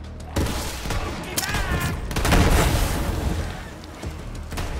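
Gunfire in the video game Borderlands 3, loud rapid bursts and booming blasts packed into a dense, chaotic barrage with a brief break in between.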